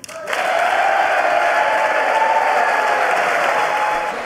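Applause during a State of the Union address, a large chamber crowd clapping in a sustained, loud, even wash that starts abruptly and holds steady.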